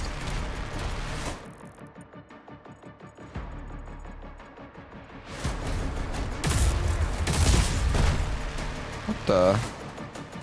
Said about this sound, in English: Accelerator. Shoots out plasma energy at a very high fire rate.